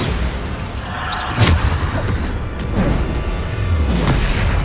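A Bombarda spell explodes in Hogwarts Legacy combat, a sharp blast near the middle over a continuous rumbling game soundscape with further muffled impacts later on.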